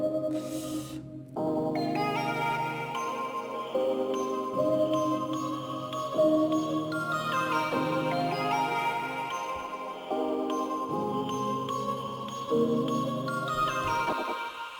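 Layered synthesizer tracks play a slow beat with a soft, flutey lead melody over sustained chords, steady and moderately quiet with no voices.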